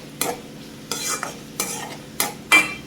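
Onions with turmeric and salt stirred in a pan, a spoon scraping in five or six distinct strokes over a soft sizzle, near and fairly loud.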